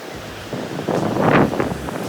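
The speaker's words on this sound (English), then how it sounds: "So we stand at the beach." Wind buffets the microphone on a beach on the New South Wales South Coast while waves wash in, building to a surging rush in the middle of this short stretch.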